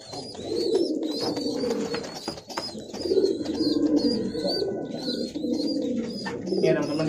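Pigeons coo in repeated soft, throaty calls, close by and steady throughout, with chirps from other birds and some light background noise in a loft where squabs are being moved between foster parents.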